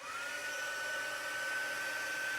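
Embossing heat tool blowing hot air onto thin vellum at a card-making table: a steady, close whirring fan hiss with a constant high whine, unbroken for the whole stretch.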